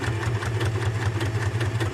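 A domestic sewing machine stitching through leather, its motor holding a steady, strained hum with a fast, even pulse from the needle strokes, close and continuous throughout.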